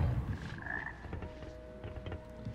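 A frog croaks in the video game Hogwarts Legacy, a short rising warble followed by a thin sustained tone, fairly close over soft game background.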